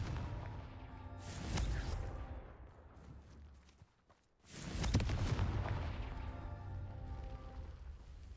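A Confringo spell explodes in Hogwarts Legacy, with two loud broadband booms about three seconds apart, each trailing off into a rumbling decay, and a brief near-silent gap before the second blast.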